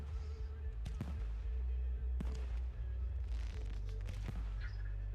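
Fireworks burst in a quick irregular string of sharp cracks and booms, some near and loud, over a constant low rumble, with no voices heard.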